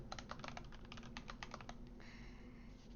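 Rapid keystrokes clatter on a computer keyboard in quick irregular bursts, close and fairly quiet, then thin into a few softer taps near the end.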